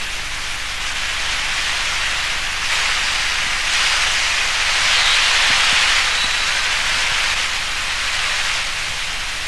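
On stage at a 1998 evening show in Kokand, a performer's voice imitates falling rain with a long, steady hissing rush that swells slightly midway and holds to the end.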